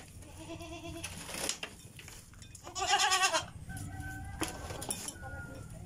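Imported breeding goats bleating on a farm, several loud, wavering cries in bursts close by, with a strong call in the middle, amid quiet background rustle and occasional poultry clucks.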